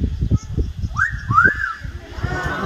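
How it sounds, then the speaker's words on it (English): A male Amazon parrot gives a rising, sliding whistle of two swooping notes, clear and fairly close, with low thumps and handling noise underneath. "A little bit of a whistle to get the girls' attention."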